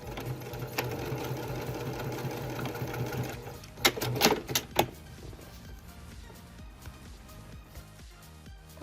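A sewing machine runs steadily while stitching a fabric tab cut from an old kimono obi, a close, even mechanical whir that stops midway, followed by a few sharp clicks and handling noises.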